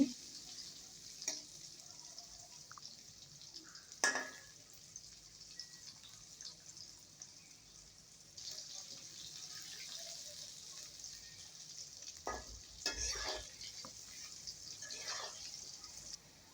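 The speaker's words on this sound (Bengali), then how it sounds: "হলুদের গুঁড়া দিয়ে একটু নাড়িয়ে চাড়িয়ে নিচ্ছি" Potatoes fry with turmeric powder in a pan, giving a faint, steady sizzle broken by a few sharp clinks and scrapes of stirring, with occasional quiet speech.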